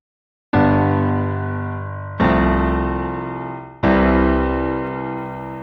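Three piano chords, the middle one F over C, struck one after another, each left ringing and slowly decaying before the next, played alone.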